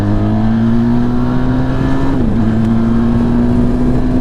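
A loud Benelli TRK 502 motorcycle engine drones steadily, its pitch rising slowly as it accelerates, with a brief dip midway before climbing again.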